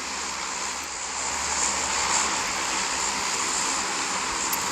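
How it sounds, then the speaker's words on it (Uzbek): Steady airplane engine drone inside the PUBG video game, a continuous broad roar that holds at an even loudness throughout with no speech over it. "Hozir endi samolyotdamiz, tushishga harakat qilamiz."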